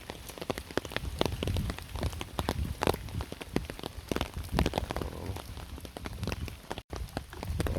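Heavy rain pours steadily on a bypass road, a dense constant patter of drops striking surfaces nearby.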